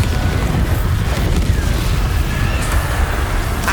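A Bombarda spell explosion in Hogwarts Legacy sounds as a heavy, rumbling boom that sustains for several seconds, loud and dense with crackling debris and low-end roar throughout.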